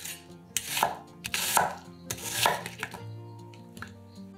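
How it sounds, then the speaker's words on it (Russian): An onion cut into rough chunks with a knife on a board, a series of close, crisp chops in an irregular rhythm with no one talking. "Одну луковицу нарезаем произвольными кусками."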